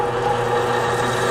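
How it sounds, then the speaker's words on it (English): An 80 grit sharpening wheel spins up to speed for sharpening a diamond parting tool at a woodturning center, a steady close motor whir with a constant hum, no voices. "It's an 80 grit wheel"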